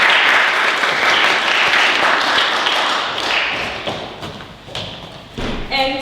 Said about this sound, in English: So thank you very much, big applause again.